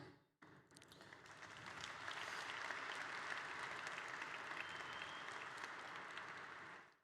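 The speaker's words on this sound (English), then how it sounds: "So obviously you're clapping" A conference audience claps at a product presentation, a brief pause followed by dense applause that builds quickly and holds steady before tapering, heard from within the hall.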